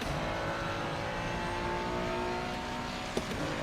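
A Ferrari race car engine drones steadily throughout in Assetto Corsa Competizione, with a brief sharp click near the end.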